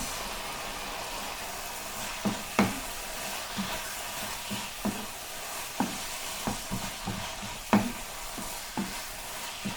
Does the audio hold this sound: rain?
no